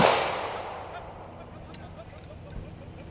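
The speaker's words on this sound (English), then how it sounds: "What he's doing is exposing him to gunfire." A single sharp gunshot rings out during police K9 obedience training with the Spartanburg police department, loud at the start and trailing into a long echoing decay, with a faint second pop a couple of seconds later.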